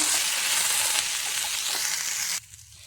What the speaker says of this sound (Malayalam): ഇതിലേക്ക് ഇനി അരിഞ്ഞു വച്ചിരിക്കുന്ന ഉരുളക്കിഴങ്ങ് ചേർത്ത് കൊടുക്കാം